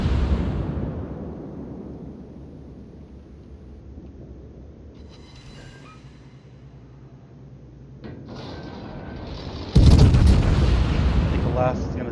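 Naval guns fire from warships in World of Warships, heavy booming salvos that open loud and decay into a rumbling tail, followed by a sharp, loud blast near the end.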